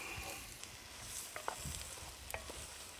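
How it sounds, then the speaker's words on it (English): Wild mushrooms fry in a pan over a medieval-style cooking fire, giving a quiet, steady sizzle with a few soft stirring scrapes and brief clicks, and no voices. "Cook these off till they're nice slightly browned."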